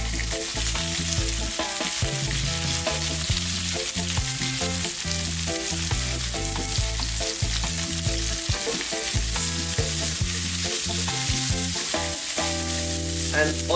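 Onions fry in a hot pan with garlic and ginger over high heat, a loud continuous sizzle broken by repeated scraping and clattering as the pieces are stirred and tossed, with no talking.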